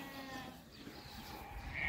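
Tatal breed sheep and lambs for sale bleat steadily over the whole stretch, several animals calling close together in a farm pen with a continuous overlapping rhythm.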